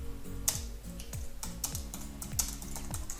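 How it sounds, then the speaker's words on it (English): Steady typing on a computer keyboard while text is edited on a website builder, with crisp key clicks in an uneven rhythm and a few sharper taps standing out, close and alone. "Just type, click and type."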